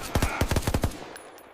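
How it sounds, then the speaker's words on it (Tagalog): A rapid burst of gunfire, about eight sharp shots in quick succession, loud and close, fading into a short quiet tail. "Paputukan yan!"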